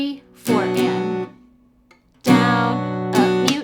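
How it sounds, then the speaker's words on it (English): Acoustic guitar strummed in a down-and-up pattern with an extra down and up strum at the end, two bright chord bursts separated by a brief quiet gap with one lingering low note, played close and clear. "I'm just adding that extra down and up strum at the end."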